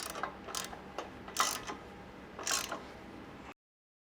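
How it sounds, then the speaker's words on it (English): Ratchet tightening bumper bracket bolts on a Toyota 4Runner during a C4 Fab high-clearance bumper install, heard as a few short bursts of clicking spaced about a second apart, fairly close and alone. "you can go ahead and tighten down those bolts"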